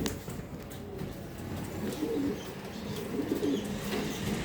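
Pigeons coo softly in a loft, low repeated throaty calls rising in short clusters over a quiet background hum.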